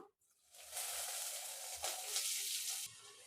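Quiet, bright sizzling of chana dal frying in hot oil, starting after a brief silence and holding steady for a few seconds.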